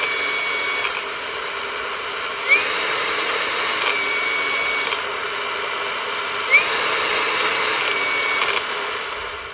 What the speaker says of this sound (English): So I'm going to try to use this grinder that I just got.